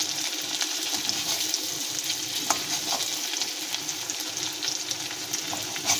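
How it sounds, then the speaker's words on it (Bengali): Onions fry in a hot pan with a loud, steady sizzle that runs throughout, broken by occasional stirring scrapes. "পেঁয়াজগুলোকে ভালো করে ভাজবো"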